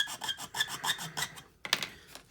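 A file rasps back and forth across the notches of a wooden model ship kit of the Sovereign of the Seas, a quick run of about ten short, close strokes, then a brief pause and a couple of final scrapes, with no voices.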